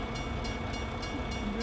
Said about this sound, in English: As I sit here waiting for a train, will it be an intermodal train?